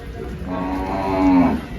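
A Gir cow moos once at a cattle market in Dhule, Maharashtra, a low drawn-out call that rises and swells toward the end, close by with steady background noise.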